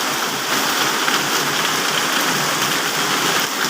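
Heavy rain pours down steadily during a storm at a dried-up fishing pond, a loud, dense, unbroken hiss with no voices.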